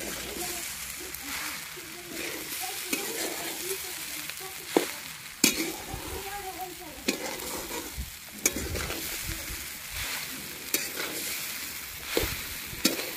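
Khichdi with potatoes being stirred and fried in a pan over a village wood-fired stove: steady soft sizzling with repeated sharp scraping and clanking strokes of the spoon against the pan, close by.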